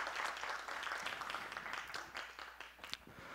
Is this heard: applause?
yes